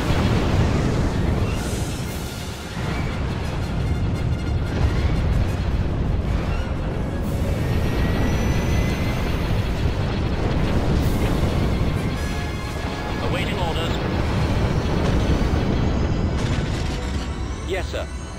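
A spaceship fleet opens fire in Sins of a Galactic Empire, a space strategy game, with loud, continuous booming weapon blasts and explosions rolling on for the whole stretch, joined by mechanical hum and radio-style voices.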